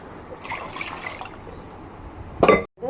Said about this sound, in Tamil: நீங்கள் நல்லா தண்ணி சேர்த்துக்கோங்க